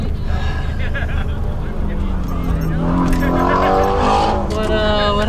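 A Toyota 86 at an autocross run with brakes locking and tires skidding: a loud, steady engine roar overlaid by a rising tire squeal in the second half, close and continuous, with voices speaking over it.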